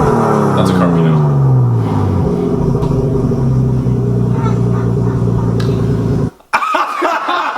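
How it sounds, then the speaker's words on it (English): A Nissan RB20DET engine runs nearby with a loud, steady droning rumble, its pitch sliding down early on before it settles, then it cuts off briefly near the end. "RB20. Nissan RB20 DET."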